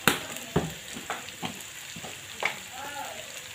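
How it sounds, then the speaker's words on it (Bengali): Panch phoron spices crackle in hot oil, a continuous sizzle punctuated by several sharp pops spaced irregularly, close and fairly loud. "এখন আমি অল্প করে একটু পাঁচফোড়ন দিয়ে দিব।"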